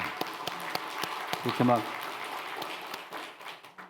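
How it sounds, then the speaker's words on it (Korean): A church congregation claps hands in a short burst of scattered applause, briefly swelling and fading beneath a pastor's voice as he keeps talking. "그렇게 생각하면 박수 한번 쳐보세요"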